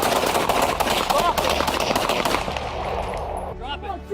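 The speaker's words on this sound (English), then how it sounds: "3 officers opened fire." Several police officers open fire during a confrontation with a man holding a knife, a rapid burst of gunshots that rings close and loud before it thins out, with faint voices underneath.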